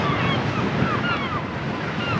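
Sea waves breaking along the rocky Dunbar coast in Scotland, heard as a steady, loud rush of surf mixed with wind buffeting the microphone, continuous for the whole stretch with no talking.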